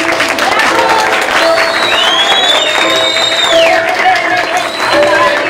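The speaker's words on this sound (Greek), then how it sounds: "Χειροκροτήστε ρε" An audience at a Trikala secondary school's World Poetry Day event breaks into dense, loud applause, with whistles and cheers riding on the clapping and voices mixed in.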